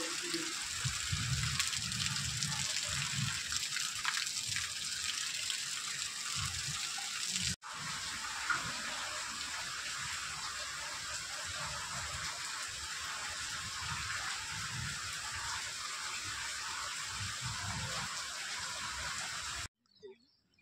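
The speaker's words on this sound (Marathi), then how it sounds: "खूप जोरात पाऊस चालू झालेला आहे आता आमच्याकडे." Heavy summer rain pours steadily over an orchard, a dense, even hiss that carries on for about twenty seconds before cutting off abruptly, with no talk.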